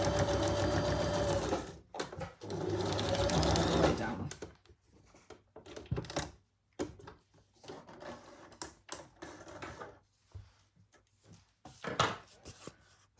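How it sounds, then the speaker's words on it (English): A sewing machine runs a straight stitch through layered paper in a burst of steady mechanical whirring, followed by quieter intermittent clicks, thumps and handling noises. "I will go through all these layers. And do a straight stitch over that zigzag stitch."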